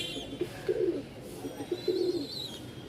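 Pigeons coo in soft, low, throaty phrases, two rolling calls about a second apart, close by with faint chirps and light background noise, no talking.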